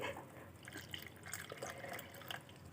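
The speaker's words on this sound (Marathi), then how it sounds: "इथे मी तीन कप भरून पाणी घालून घेते" Water splashing and trickling as three cups are poured into a pan for cooking rice, a soft, close liquid sound without any talking.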